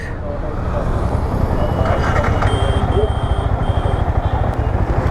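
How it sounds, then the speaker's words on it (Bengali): Road traffic rumbles past nearby at Bahagili Bridge, Taraganj, Rangpur, engines droning and swelling continuously, with a few brief high tones cutting through the noise. "কতগুলো গাড়ি যাইতেছে"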